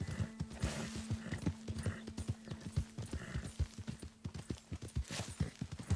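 Horse hooves clip-clopping in the video game Red Dead Redemption, a steady run of close, evenly paced hoofbeats with a brief whinny-like tone near the start, no talking over it.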